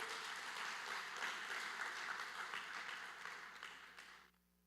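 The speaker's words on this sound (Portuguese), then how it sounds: "Dê uma salva de palmas bem forte para o Senhor." Church congregation clapping loudly after a sermon, a sustained crowd applause that carries evenly for several seconds, then fades quickly into near quiet at the end.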